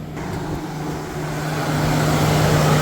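The radiator fan of a 2015 Cadillac Escalade roars at full speed with the engine off, a loud, steady whooshing drone with a low hum that builds slightly and runs continuously.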